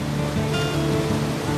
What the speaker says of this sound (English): The waterfall is a feature in this area and different walks and loops intersect here.